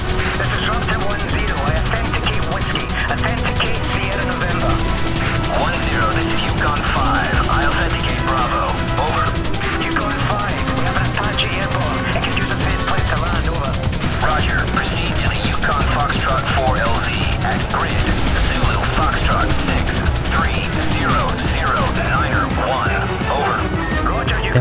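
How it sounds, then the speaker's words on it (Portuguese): Dense, continuous gunfire and explosions from the PS3 helicopter combat game Apache Air Assault, loud and sustained throughout with crackling bursts layered over a steady rumble, while a player talks over it. "O cara tá metendo tiro, fi."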